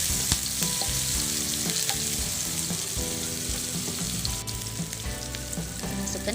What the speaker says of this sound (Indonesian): Kita goreng bumbu yang kita potong-potong tadi hingga wangi dan